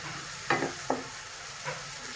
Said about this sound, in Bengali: এটা ভালো করে পেঁয়াজটাকে কষিয়ে নেব